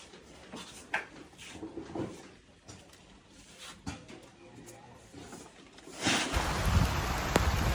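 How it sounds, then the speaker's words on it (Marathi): Sudden rain falls at night, faint at first with scattered knocks and taps, then swelling into a steady hiss of rainfall for the last couple of seconds. "रात्र झाली आहे आणि अचानक पावसानं सुरुवात केली आहे"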